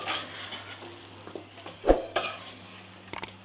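A spoon stirs chicken chindhamani with curry leaves in a pan, a few soft scrapes and clinks over a faint sizzle, with a sharper metallic tap near the end.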